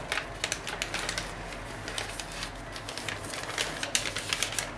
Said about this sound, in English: And then make a mountain fold along this line.